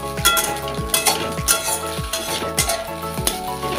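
Vegetables with salt and ghee sizzling in a pan for fried rice, stirred with a utensil that scrapes the metal in a steady, repeated rhythm over a constant close frying hiss.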